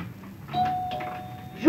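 A doorbell rings in a home with a sustained electronic tone that carries for about a second, with faint room noise and a louder burst at the very end.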